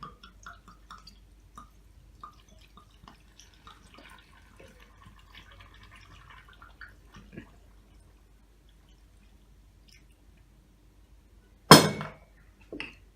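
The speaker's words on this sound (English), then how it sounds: "And then you get your brandy and you cover it all." Brandy poured over honey in a glass jar, heard as faint, quiet trickles and drips over a hushed background, followed near the end by one sharp, louder clink against the glass.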